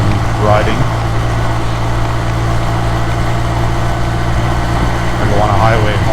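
Kawasaki W800 motorcycle being ridden, a steady low engine drone with wind rumble running throughout, loud and close, with brief voice fragments near the start and end.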